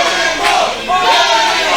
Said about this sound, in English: Got a Cannonball chant